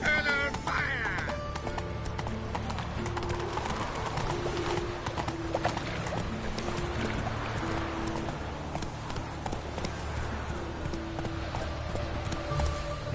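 Roach the horse gallops in The Witcher 3, rapid rhythmic hoof clip-clops running continuously and loud, with a brief whinny near the start and game music and occasional voices underneath.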